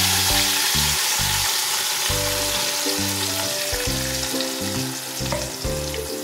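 Spice paste going into marinated chicken in a hot pan, a strong continuous frying sizzle with hissing spatters and a few brief stirring pauses, close and loud with no talk.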